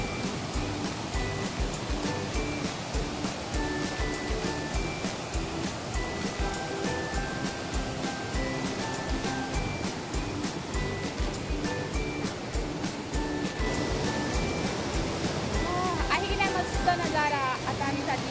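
Water flowing under a bridge on a road trip through the Konkan, a steady rushing wash heard under background noise, with a person talking over it.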